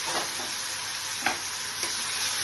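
Paste frying in a pan for a cashew, almond and yogurt paneer curry, giving a steady close sizzle throughout with a couple of brief stirring scrapes.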